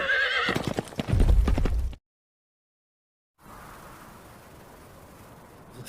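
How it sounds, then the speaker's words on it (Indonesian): A horse carrying a minister sets out, with sharp close hoofbeats and a whinny at first, then silence, then a faint rough outdoor background. "Pagi sekali menteri berangkat naik kuda dari jalan rahasia menuju barak pasukan Qing."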